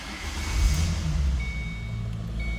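A 2007 Ford Mustang Convertible idles after starting, with a low, steady engine rumble close by that swells slightly early on and then settles into an even hum.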